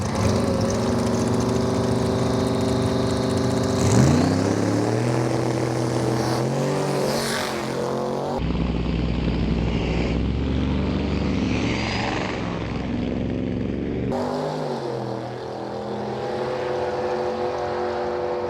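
A Shelby Cobra launching down a drag strip on an 8-second pass, its loud engine roaring and climbing in pitch through several gear changes across a long, sustained run with no talking.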